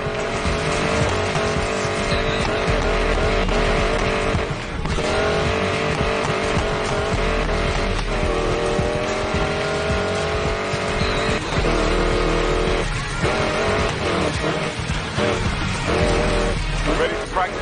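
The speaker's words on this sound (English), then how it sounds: "You're about to race and lift a hypercar loaded with prototype black market tech." Hypercar racing in Need For Speed Payback, a loud, steady engine roar with shifting revs and tire squeal under game music and effects, dense and continuous throughout.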